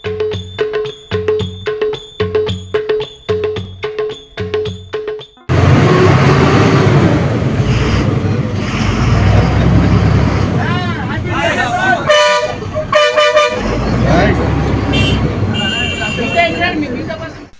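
A new electric RTC bus, driven by an MLA in Parakal, Hanamkonda district, blares a rapid series of loud, evenly spaced horn toots, followed by a dense, loud wash of crowd voices and commotion.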